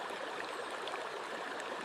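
A frozen creek in a snowy winter forest flows with a soft, steady rushing babble, faint and even throughout the short moment.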